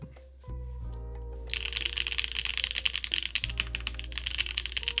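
Typing on an ikki68 keyboard fitted with FLCMMK Ice Mint linear switches, a quick run of close, crisp clacking keystrokes that grows busier partway through, over a faint low hum.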